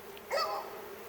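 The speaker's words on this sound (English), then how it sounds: "Right now they're fanning to let all the returning bees that are out foraging for nectar and pollen" Honeybees fanning at a hive entrance after the colony's move, a soft insect buzz that swells briefly and then holds as a faint, steady hum, close by and alone.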